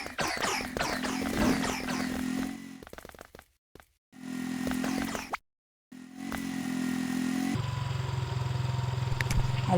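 A motorbike engine hums and revs in the PK XD mobile game, steady droning tones broken by brief silent gaps, then a lower idling drone continuing to the end.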